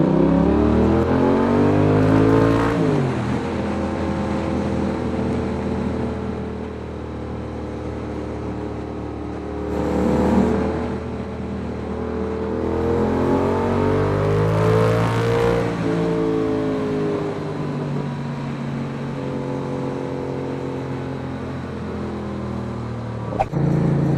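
A 2019 Yamaha XSR 700 motorcycle is ridden on the road, its engine note climbing and dropping through several gear changes, steady and close, with brief bursts of wind noise.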